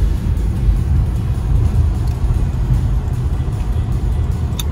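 A car rolls along and pulls into a parking space, with a heavy, steady low rumble of engine and road noise heard from inside. The drone is continuous with no talking.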